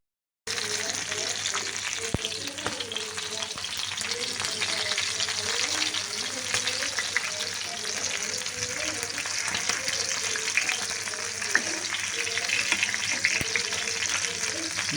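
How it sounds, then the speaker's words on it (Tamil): Onions frying in a pan and being turned over while a fish curry is prepared, an even, loud sizzle throughout with scattered spoon scrapes and clinks, and a voice talking now and then. "கொஞ்சம் வெங்காயம் திருப்பி போட்டுக்கலாம்"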